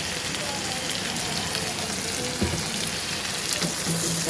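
Steady broadband sizzling of onions frying soft in hot oil, continuous and fairly close, with faint clinks now and then.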